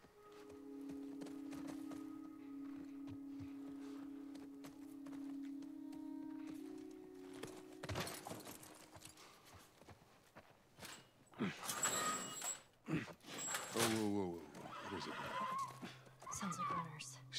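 A horse whinnies and its hooves clop in The Last of Us Part 1, amid other in-game sounds and occasional thuds, moderately close.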